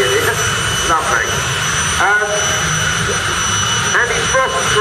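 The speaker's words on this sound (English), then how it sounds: "in the hope that you can still hear me over the jet engine" Helicopter turbine engine fitted in a car, built for 260 mph quarter-mile runs, roars continuously and loudly from close by with the rear window removed, while someone talks over it throughout.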